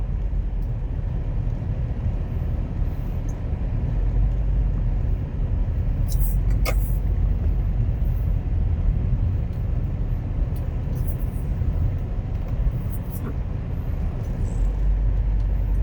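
A car pulls out of Aloha Stadium in Honolulu, heard from inside as steady, loud engine and road rumble with tire hiss that holds constant throughout.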